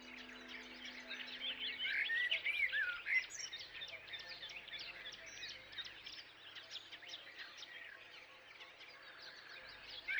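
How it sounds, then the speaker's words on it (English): A dense chorus of chirping and trilling from birds, frogs and crickets at twilight at Lake Neusiedl fills the air continuously, layered together, moderately loud and constant throughout. "Birds, frogs and crickets commence with a loud concert in the twilight."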